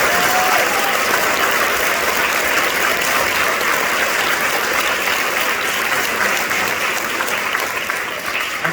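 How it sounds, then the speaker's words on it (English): An audience applauds at a high school wind ensemble concert: loud, dense, sustained clapping from a full hall that carries on steadily throughout. "So, round of applause for Mr. Champion."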